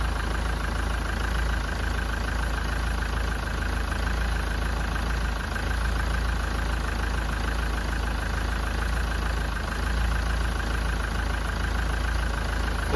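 A car engine idles steadily during a head gasket test, with a constant low, even drone and no people speaking.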